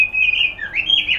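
Magpie robin (kacer) whistling and chirping in a continuous clear, melodic call with rising and falling notes, close and fairly loud, alone.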